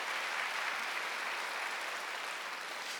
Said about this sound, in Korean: 깨달은 사람만 박수 크게 쳐보세요.